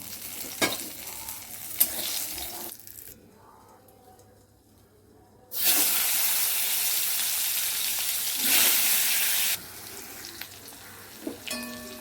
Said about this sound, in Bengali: এবার এই তেলে কাঁকড়টা ভেজে নেব